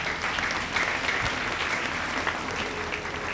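A church congregation applauding to acclaim the Lord, dense, sustained clapping from many hands at fairly close range with no gaps.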